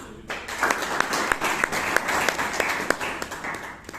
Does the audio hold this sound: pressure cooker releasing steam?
no